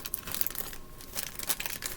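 A plastic Smurf blind bag crinkling as it is opened, with bursts of sharp rustling and crackling close to the microphone, pausing briefly between handlings.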